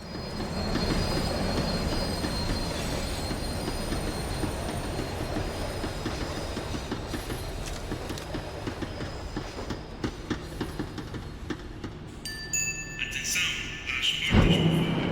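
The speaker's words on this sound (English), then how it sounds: "The tram was slowing down, and I'd only just gotten on board." A tram in the video game Max Payne 3 slows down with loud, sustained metallic wheel squeal and rattling rail noise that gradually thins out, ending in a sharp brief clatter near the end.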